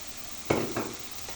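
Ginger and garlic paste drops into frying onions in a pan, a sudden burst of sizzling followed by a second softer flare and a few faint scrapes, then settling quiet.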